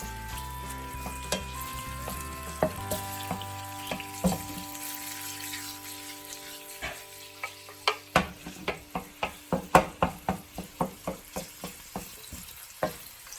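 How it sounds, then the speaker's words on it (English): Shrimp sautéing in a hot pan on raised heat for a shrimp and bacon sandwich: a steady close sizzle, with a run of sharp clanks and scrapes in the second half as the shrimp are stirred and tossed. "We're gonna saute our shrimp."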